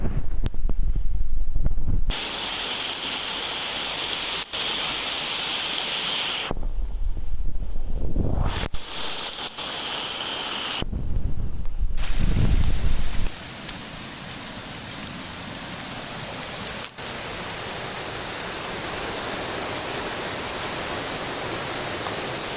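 Porter Brook in flood, a straight stretch of swollen river roaring with broadband rushing water, loud and continuous throughout, with bursts of wind buffeting the microphone in the first half.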